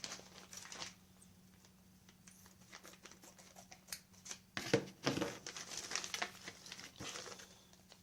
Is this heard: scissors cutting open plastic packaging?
yes